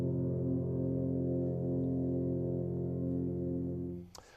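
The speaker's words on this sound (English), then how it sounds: "And when the F tubas play together, they sound like this." Several F bass tubas sound a low chord together, sustained steadily for about four seconds before cutting off, with a short clatter at the end.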